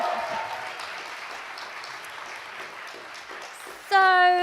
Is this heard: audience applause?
yes